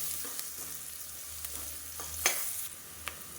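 Garlic, crushed with its skin on, sautés with spices in a pan for a home-style kuzhambu. A quiet, steady sizzle is broken by a few soft stirring clinks.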